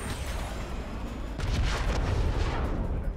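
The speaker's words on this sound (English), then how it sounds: "Did I just destroy my own kill streak with a cruise missile?" A cruise missile strike in Call of Duty: Modern Warfare lands as a loud, sustained explosive roar with deep rumbling that swells midway and keeps booming to the end.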